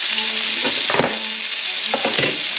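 Fish sizzling in a hot pan for taco bowls, a steady close-up frying hiss with a few light scrapes or stirs, no voices.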